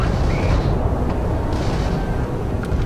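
Missile explosions during space ship combat in Starfield, a continuous loud rumbling roar of blasts and engine noise with a few brief high electronic blips, no talking.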